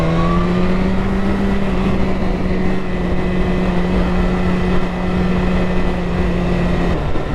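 A Yamaha MT motorcycle rides behind on an open road trip, its engine a steady, loud drone with a sustained tone that slides slightly in pitch, continuous throughout with no talk.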